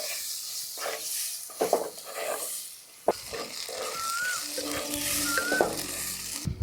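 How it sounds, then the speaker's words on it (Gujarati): Chopped onions fry in a pan with ginger, asafoetida and turmeric for Chhattisgarh-style dubki kadhi, a close sizzle broken by several stirring scrapes and spoon knocks, with hissing swells between them. "ચોપ કરેલી ડુંગળી ઉમેરી શેકાવા દઈએ."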